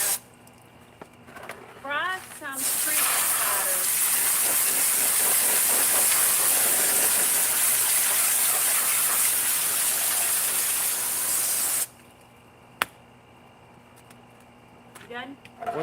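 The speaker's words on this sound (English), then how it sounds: "I don't want to talk over him spraying that water." A hose sprays water hard while seafood is being cleaned, a loud steady hiss that starts abruptly after a couple of seconds, runs about nine seconds and cuts off, with brief voices before and after it.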